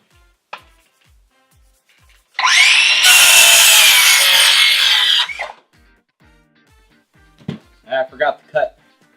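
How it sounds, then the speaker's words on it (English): Saw cutting a 45-degree angle into a wooden board for a cornhole board build; one loud, close burst of rasping cut lasting about three seconds, with a faint regular ticking behind and brief talk afterward. "just cut a 45 into it, so that way it has some room to twist"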